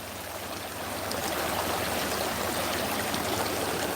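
McMillan Creek running beside a patch of poison hemlock, a close, continuous babble of flowing water that swells slightly louder after the first second and holds steady.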